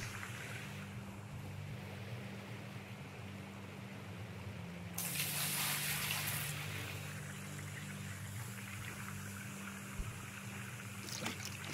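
A bucket scoops water out of a dug hole at an outdoor gold-prospecting site: one sloshing, splashing burst lasting under two seconds amid a faint steady background hum, followed by a few light knocks.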